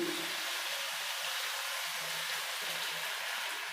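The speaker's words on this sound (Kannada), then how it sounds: "ಈಗ ನಾನು ನೀರು ಹಾಕ್ತಾಯಿದ್ದೀನಿ" A continuous rushing, splashing hiss of water being poured into a pot, steady and close throughout.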